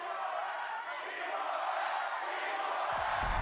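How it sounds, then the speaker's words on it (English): A huge arena crowd at the Valorant Champions 2023 esports event roars and cheers in a dense, sustained wall of noise that holds steady throughout. "Exultations and cheers."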